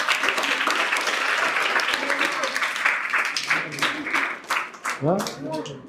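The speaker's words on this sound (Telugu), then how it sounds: "ఆ పాప క్లాప్స్ కొట్టండి అంత." Children clap for a girl during a school girls' hostel inspection, a dense burst of applause that fills the first half and then thins into scattered claps as voices take over near the end.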